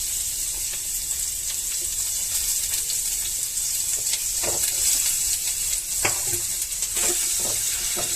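Chillies and onions fry with a steady bright sizzle in a pan, while occasional scraping knocks of stirring break through and no one speaks.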